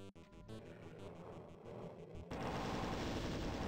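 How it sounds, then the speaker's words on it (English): Super shotgun blasts in the Doom 2 Scythe mod, a few sharp loud shots at the start giving way to a dense, roaring wall of game combat noise that swells louder near the end. "the super shotgun does a lot of damage per shot."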